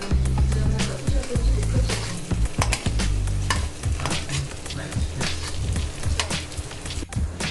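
Ginger paste and turmeric stirred in a frying pan for tomato rice, a loud close sizzle with rough scraping and knocking of a spoon, irregular and busy throughout.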